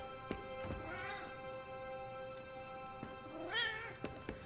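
A pet cat meows several times, clear drawn-out calls rising and falling, fairly close against a quiet background with a few soft clicks.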